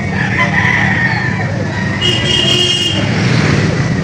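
Rooster crowing at the Lipa livestock auction market in the Philippines, loud and close, with a second crow partway through over steady market background noise and faint traffic.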